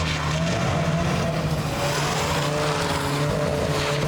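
A car driving hard with traction control set halfway and sliding into oversteer, a loud sustained engine drone with faint tire squeal layered over steady road roar, close and continuous.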